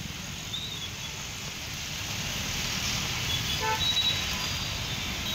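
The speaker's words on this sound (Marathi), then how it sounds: "अनेक ठिकाणी वाहतूक कोंडी सुद्धा निर्माण झालेली आहे" Gridlocked traffic on rain-flooded streets in Kalyan, a steady low rumble of idling vehicles with a few faint, distant horn toots rising briefly above it.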